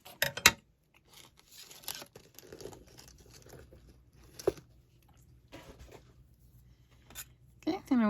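Scissors snip through paper while a mini notebook is being made by hand, a few sharp close cuts followed by quiet rustling and handling sounds, with a brief voice near the end.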